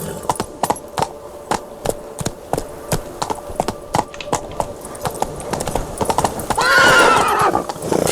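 Roach, a horse in The Witcher 3, galloping with a quick, steady clip-clop of hooves, ending in a loud neigh; ambient game sound sits underneath.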